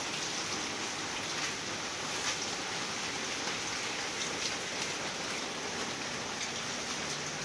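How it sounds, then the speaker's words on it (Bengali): Steady rain falls continuously, a dense even hiss of drops striking surfaces, with no voices over it. "এই যে বৃষ্টি হয়ে যাচ্ছে,"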